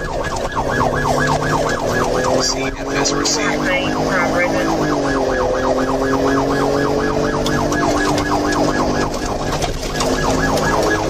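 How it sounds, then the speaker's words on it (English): A police car siren wails, cycling rapidly up and down, loud and close during a pursuit, with a brief radio voice heard over it. "activated his lights and sirens, attempting a traffic stop"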